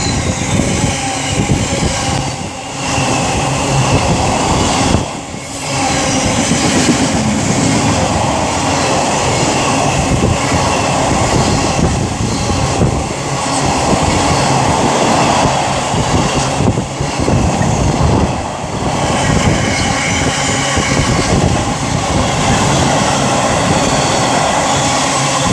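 A long train with a flat wheel on its rear rolls steadily past at Solihull, heading toward Birch Coppice, a loud, continuous rumble and rattle lasting the whole stretch, with brief dips near the start, and no voices.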